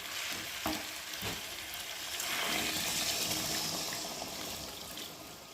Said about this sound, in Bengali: আর এখন আমি গরম করে রাখা জলটাকে ঢেলে দেবো।